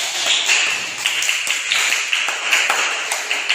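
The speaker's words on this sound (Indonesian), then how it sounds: "tepuk tangan untuk kelompok ketiga." Classroom students clapping for a group that has just presented, a quick, fairly sparse patter of hand claps close by, steady for a few seconds with slight unevenness.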